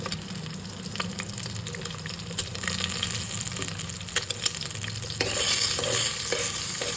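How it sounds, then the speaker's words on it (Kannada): An egg fries in oil in a pan, a close, continuous sizzle broken by scraping stirs, swelling louder and brighter toward the end with no talking. "ಫಸ್ಟು ಅದಕ್ಕೆ ಸ್ವಲ್ಪ ಆಯಿಲ್ ಹಾಕ್ಬಿಟ್ಟು ಪಾತ್ರೆಯಲ್ಲಿ ಅದಕ್ಕೆ ಮೊಟ್ಟೆ ಹಾಕಿದ್ದೀನಿ"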